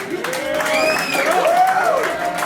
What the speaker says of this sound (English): Crowd, make some noise!